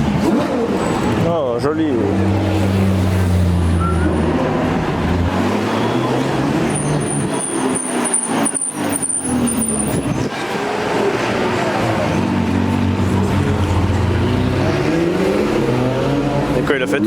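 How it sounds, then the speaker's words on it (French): An Italian supercar's V8 revs and roars in the streets of Knokke, its pitch rising and falling in loud sweeping surges that pause briefly midway, with people chatting nearby. "Oh, elle fait vraiment un beau son. Le méchant V8."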